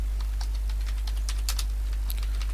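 Rapid typing on a computer keyboard while entering an app name, with light clicky keystrokes in an uneven rhythm over a steady low hum.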